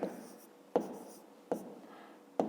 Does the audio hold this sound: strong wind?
no